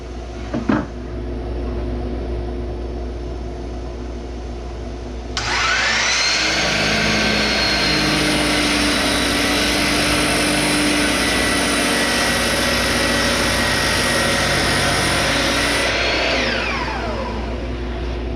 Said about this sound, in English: You can tell how hard this wood is just by the way this brand new saw blade is taking its good old time cutting through it.